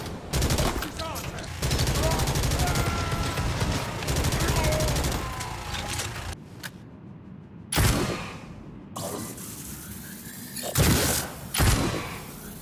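Guns firing in the Necromunda: Hired Gun video game, including an auto pistol and a charged Long Las shot: a rapid stream of shots, then a pause and several separate sharp, punchy blasts with short gaps between them.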